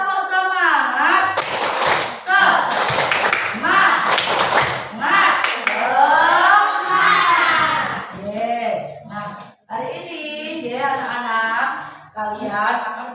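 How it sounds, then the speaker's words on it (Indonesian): A class of children performs the rhythmic 'tepuk semangat' clapping chant, sharp hand claps in quick patterns mixed with loud group chanting voices, filling the room at close range. "kita tepuk semangat dulu"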